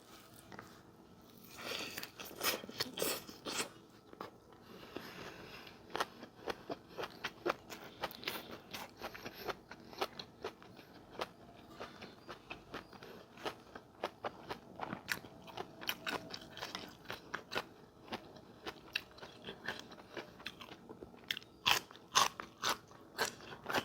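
Someone close by chews crunchy boiled vegetables, with irregular crisp bites and crackling chews repeating throughout, and no one speaks.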